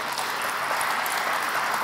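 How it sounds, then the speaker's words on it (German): Audience applause at the CMT 2024 trade fair in Stuttgart, a dense, steady wash of many hands clapping, loud and continuous. "Und ich finde, das ist auch ein ganz großer Applaus wert."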